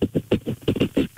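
A person mimics a pig with a rapid series of short, rough, low grunts, about eight bursts in quick rhythm, close and fairly loud.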